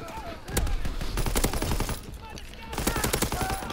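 Gunfire in Call of Duty WWII multiplayer, rapid cracking bursts and single shots close and loud, with a voice talking over the firing.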